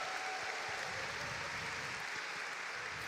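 Crowd applauding the Masters Division finalists at a Pokémon TCG finals event, a steady broadband wash of clapping with no voices over it.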